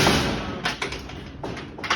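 A small wooden chicken coop door thumps shut a few times in quick succession, close by, with light knocks and rattles between the impacts.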